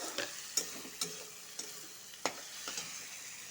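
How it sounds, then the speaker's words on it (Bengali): Onion with chopped tomato and chilli frying in a pan: a soft, low sizzle broken by several sharp scrapes and taps of stirring, heard close and alone. "এখন টমেটোর কুচি আর লঙ্কার কুচিটা দিয়ে দিব এটা ভালো করে ভাজবো"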